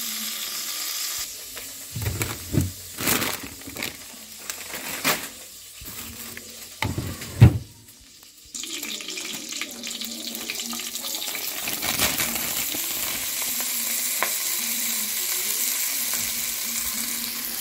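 Kale (couve) hitting a hot pan and frying, with scattered clatters and bumps at first, then a short pause followed by a steady close sizzle that holds to the end, mixed with faint running-water and stirring sounds.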